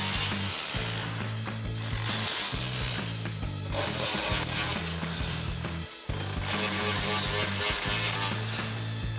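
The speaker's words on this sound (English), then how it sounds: "So we've got our 10 mil socket on our ratchet." A ratchet fitted with a 10 mm socket tightens the side plate mounting bolts of a sport bar on a Dodge Ram 1500, giving steady rapid clicking strokes close by under a loud continuous music bed, with a brief gap near the end.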